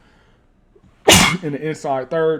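A single loud, close sneeze bursts out abruptly after near silence, followed right away by someone talking during a Madden 26 football video game session.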